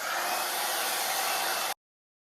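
A hair dryer blows steadily during a volumising blow dry with a round brush, a close, loud, continuous airy whoosh that cuts off abruptly near the end.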